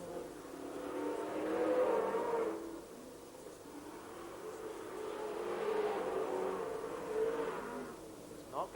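Speedway super saloon race cars at the Bay Park NZ Championships in January 1991 roar past in waves, with engine noise swelling and fading as the cars lap the track at a moderate distance.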